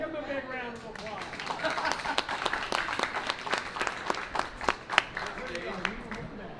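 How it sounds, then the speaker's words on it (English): Audience applause at an agriculture awards ceremony at the Alaska State Fair, a steady wash of many hands clapping with sharp individual claps popping through, while talk and cheering carry underneath. "give them a big round of applause"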